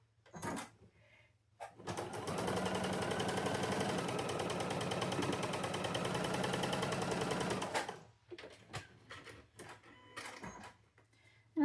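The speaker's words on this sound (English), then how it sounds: "I'm going to go ahead and sew them" Sewing machine stitching fabric pieces together, a steady rapid mechanical whir running for about six seconds, close and moderately quiet, bracketed by short clicks and handling sounds.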